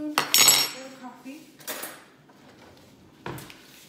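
A metal spoon clinks and rattles against dishes in a home kitchen at breakfast, with a burst of clatter at the start, lighter taps in the middle and one last sharp clink near the end.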